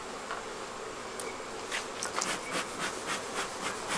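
A few honey bees hover around a hive with a hive beetle problem, giving a faint, uneven buzz with brief rising passes and light rubbing or scraping sounds.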